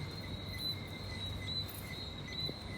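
Steady, shrill chirping of crickets near Carlisle Bay in Bridgetown, Barbados fills the air, a continuous high trill over a low rumbling background, with no voices.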